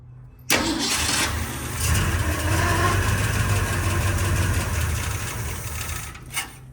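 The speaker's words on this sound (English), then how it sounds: "then we're gonna turn this thing over and see if she fires up" A 1967 Ford Mustang that had sat unrun for 16 years cranks and catches, its engine rumbling loud and close for several seconds with a rough, uneven roar before cutting off.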